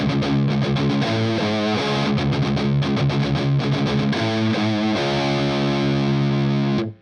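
Heavily distorted electric guitar chugs through a bouncing triplet riff, loud and continuous for about seven seconds with shifting note groups and no talking.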